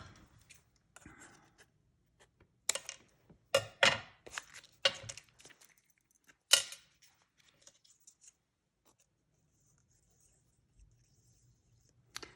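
Scissors snip through stiff cardstock in a quick run of sharp, close cuts, then pause, followed by a few quieter snips.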